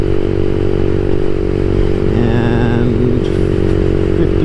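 A CSC SG250 motorcycle fitted with a MotoCult Stage 4 kit holds a steady, loud engine drone around 5,500 RPM while riding, with a brief pitch sweep in the middle and a short spoken word over the noise.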